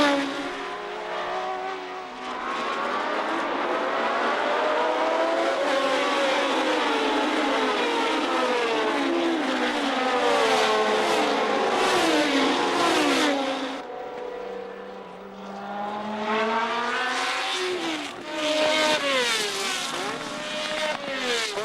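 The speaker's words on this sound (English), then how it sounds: "Behind the leading cars, Piers Courage was engaged in a spirited battle with Miles in the second Lotus" 1970 Formula 1 cars, including Piers Courage's red de Tomaso, a Lotus, Matras and a Brabham, race in close battle, their high-revving engines wailing loudly and continuously, pitch rising and falling through gear changes, briefly easing before surging again.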